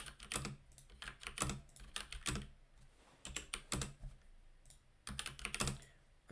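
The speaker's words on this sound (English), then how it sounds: "I hope my keyboard is not too loud." Bursts of typing on a computer keyboard, quick clustered keystrokes in several runs separated by short pauses, fairly close and moderately loud, with no talking.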